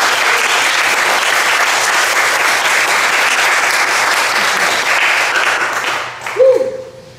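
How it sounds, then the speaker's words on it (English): Loud, sustained audience applause at a love poetry festival honors the pianist, holding steady for several seconds before tapering off, with a brief voice at the very end. "let's get a round of applause"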